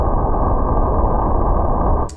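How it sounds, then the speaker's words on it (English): A room recording transposed far down into a dense, rumbling low drone, used as a kick drum sound, holding steadily loud before cutting off abruptly near the end. "it's just a really low version of the room tone"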